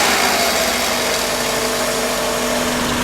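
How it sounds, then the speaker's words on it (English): A 1997 Subaru Legacy engine idles steadily during transmission fluid service, a loud, even mechanical drone with a low hum, heard close and uninterrupted with no voices. "We're gonna start the engine, run it for a while"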